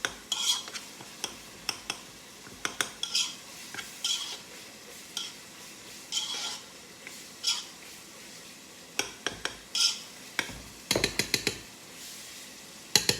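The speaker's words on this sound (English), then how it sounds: "Just chopping it up real fine." A utensil scrapes and chops ground beef in a pan for New Orleans dirty rice, making frequent sharp clacks and scrapes in an irregular rhythm, close and clear over a faint sizzle.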